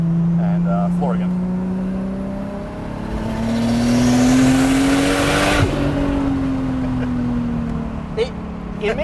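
A Nissan Laurel sedan with a swapped RB25 engine, big single turbo and factory automatic transmission accelerates hard. Its engine drone climbs steadily in pitch, peaks, then eases off under a loud airy whoosh of rushing air.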